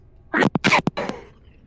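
A single sharp, explosive sneeze nearby, broken into a quick burst of breathy bursts, with no talking.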